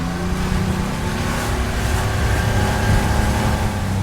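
A rental motorboat accelerating on the open sea, its engine giving a steady loud droning hum with rushing water noise, close and continuous throughout.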